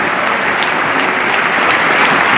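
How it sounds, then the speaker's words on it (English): Thick, continuous applause fills a big chamber during the 2014 State of the Union address, a loud wash of many hands clapping steadily without a break. "Who the hell would clap for this guy?"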